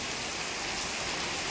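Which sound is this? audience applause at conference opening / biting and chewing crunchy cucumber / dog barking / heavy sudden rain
heavy sudden rain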